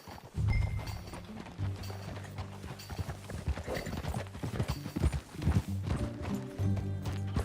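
Rhythmic hoofbeats of a horse moving at pace in Red Dead Redemption 2, continuous and fairly loud, layered over a low droning background.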